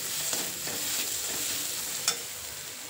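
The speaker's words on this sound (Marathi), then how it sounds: "मिरची आणि लसूणचा थोडासा कच्चेपणा जाण्यासाठी आपल्याला याला तेलावर थोडंसं 1 मिनिटभर परतून घ्यावं लागेल" Chili and garlic sauté in hot oil for a cabbage subji, giving a steady soft sizzle with faint stirring scrapes and one brief clink near the end.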